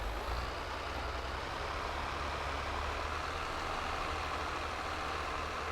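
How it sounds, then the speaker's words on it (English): A tractor engine in Farming Simulator 22 works steadily while pulling a field implement during fall fieldwork, a continuous heavy diesel drone with a deep low-end rumble and no breaks. "But this tractor has no problem pulling that thing."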